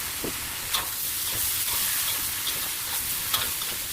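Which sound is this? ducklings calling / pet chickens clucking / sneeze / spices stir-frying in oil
spices stir-frying in oil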